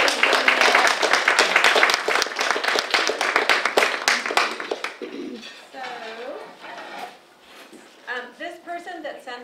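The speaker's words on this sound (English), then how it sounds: "And we owe Becky a hand of applause." Audience applause at a 2019 event honoring women veterans in Curry County: a dense flurry of close, crisp claps that thins out after about five seconds, and then a voice speaks.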